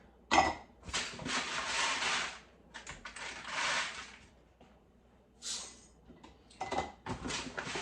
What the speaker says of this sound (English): All right, let me grab a nice big heavy scoop. Gonna level that off. Get that in my jar.